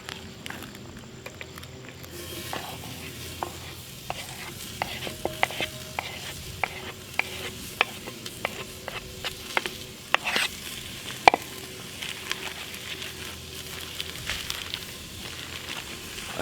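Ground beef and onions, 80-20 beef, sizzling in a hot pot over a campfire, a steady crackling fry with frequent sharp clicks of stirring and scraping throughout.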